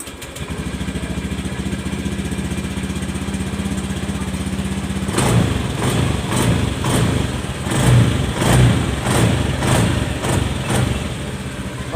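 A Honda Vario 110 FI scooter idles steadily, then the starter cranks and the engine catches, running with a choppy, pulsing putter and a few small revs, close by.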